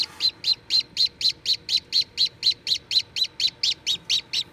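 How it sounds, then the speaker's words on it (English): A newborn chick that has just hatched inside an incubator chirps in a rapid, steady series of about fourteen high, bright peeps, close and clear over a quiet background. "My newborn has lots of energy to chirp."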